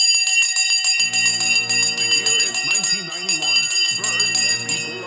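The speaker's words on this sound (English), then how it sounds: "The bell has gone." A bell rings with bright sustained metallic tones that carry steadily through the clip, while a voice talks over it in the middle.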